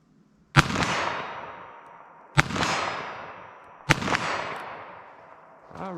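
A 3-inch revolver fires .22 Magnum Winchester SJHP rounds, three sharp, loud gunshots spaced over a second apart, each followed by a long decaying outdoor echo, with a faint knock at the end.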